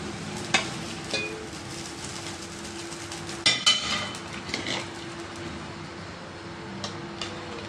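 Rice in a pot with freshly poured boiled water is stirred with a spoon, giving soft scraping and a few sharp metallic clinks over a low bubbling background.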